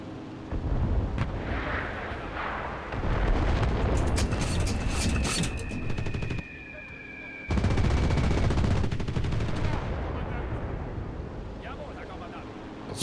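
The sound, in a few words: bombing in the video game Enlisted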